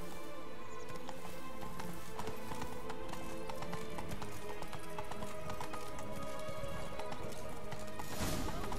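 Roach, the pink-coated horse in a video game, gallops with a steady rapid clip-clop of hooves, loud and continuous against game music, with a brief whinny and a louder burst near the end.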